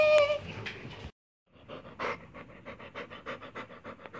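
A pet dog pants rapidly and close by in an indoor home setting; after a brief silence the quick, rhythmic breaths run steadily with no talking.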